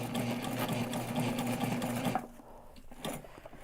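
A sewing machine stitches a backpack in a steady, rapid mechanical whir that runs close and loud for about two seconds, then stops with only faint handling noises after it.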